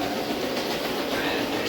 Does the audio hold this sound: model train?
yes